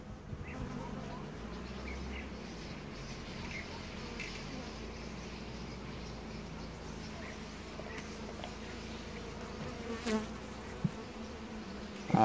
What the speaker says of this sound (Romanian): A ieșit un pic soarele, a început și albina să mai iasă din stup.